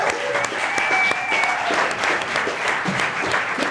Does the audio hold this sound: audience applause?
yes